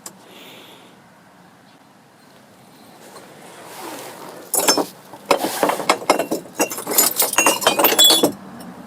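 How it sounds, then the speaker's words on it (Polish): Glass and crystal pieces clink and rattle together after a quiet start, building into a dense run of bright chinks and knocks over the last few seconds, close by. "Uwaga, bo szkło."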